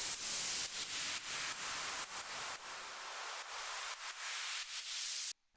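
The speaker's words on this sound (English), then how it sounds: "I added some white noise sweeps" White noise sweeps from an electronic music drop, a broad hissing wash that swells and pulses in repeated rhythmic surges, loud and bright, then cuts off abruptly at the end.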